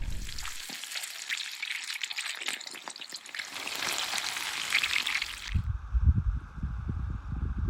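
Burgers fry on a camp stove outdoors, a close, continuous crackling sizzle that swells and fades briefly with some lower rumbling handling noise near the end.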